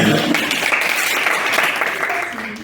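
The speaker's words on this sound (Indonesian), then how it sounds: "Jadi tepuk tangan anak." Children clap together in a burst of steady applause that fades slightly toward the end, with no talking over it.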